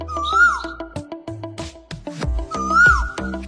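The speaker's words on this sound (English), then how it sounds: "This is a koel." Two rising, ringing koel calls sound about two seconds apart, set among a busy mix of other tones and sharp clicks.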